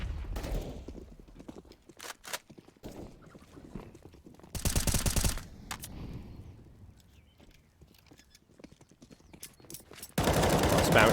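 Rapid bursts of gunfire are sprayed through a smoke grenade in a CS:GO match on the Inferno map, with a few sharp volleys and scattered shots separated by quieter stretches of in-game ambience.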